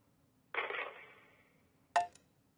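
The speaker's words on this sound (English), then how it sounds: "That was dirt being thrown on the lid of a coffin." A video game effect of dirt thrown onto a coffin lid: a sudden gritty scatter that fades away over about a second, then a single sharp knock, with nothing else around it.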